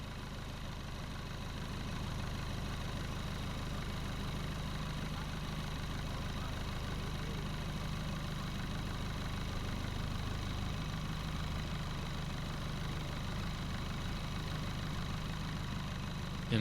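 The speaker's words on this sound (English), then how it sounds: "Slowing the boat down now to a cool cruising speed" A motor boat engine runs with a steady low drone at cruising speed on Lake Como, constant and unbroken throughout with no talk.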